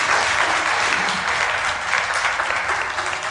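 Steady, dense applause fills a hall as a business keynote audience claps continuously, loud and sustained with no break.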